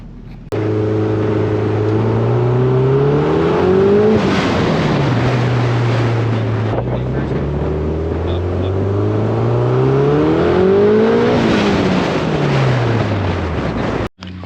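A Toyota MR2 engine with a blow-off valve revs up and down twice, the pitch climbing then dropping, with a brief whooshing release between pulls; loud and close.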